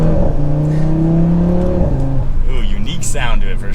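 A 2024 Audi RS3 engine revs up with rising exhaust tones, a loud close drone that climbs and settles, with a brief voice over the end.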